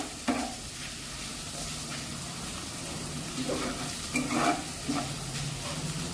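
Spice paste seasoned with salt and turmeric fries over medium heat for a Bengali katla fish curry, with a low steady sizzle and a few scraping stirs, fairly quiet throughout.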